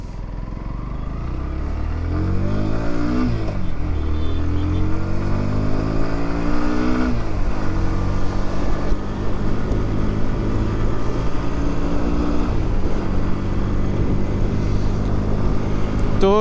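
A Bajaj Pulsar NS160, a 2023 bike with a single-cylinder oil-cooled engine and five-speed gearbox, hums loud and steady while being ridden, its engine note climbing and dropping through several gear changes over constant wind noise.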